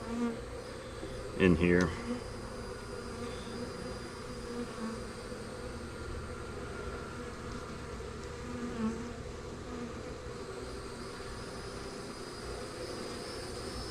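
A small honey bee swarm hums in a soft, continuous buzz close by as it is caught into a hive box, with a brief spoken remark early on.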